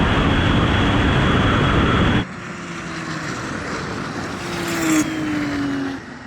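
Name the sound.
Porsche 911 Turbo 964 and 993 accelerating in drag race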